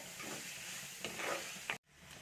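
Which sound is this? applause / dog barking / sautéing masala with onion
sautéing masala with onion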